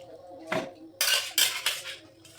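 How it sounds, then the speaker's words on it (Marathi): Cooked wild greens are lifted out of hot water in a kitchen pot. Metal utensils clink and scrape against it in a few short, bright bursts, close by with no talk. "हे बघा ही भाजी गरम पाण्यातून काढायची अशी."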